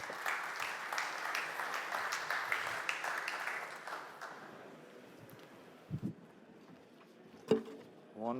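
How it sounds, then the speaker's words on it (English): Applause from a conference audience, on site and virtual, rising as a steady patter of many hands and then fading to a few scattered claps. "a very warm welcome and a very big applause, virtually and on site here, for Christoph Klenner, please."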